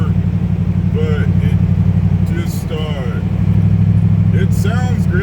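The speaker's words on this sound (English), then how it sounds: "I like straight pipes on this car" A loud Crown Victoria engine with straight pipe exhaust idles with a deep, throaty rumble, steady and close, while people talk over it.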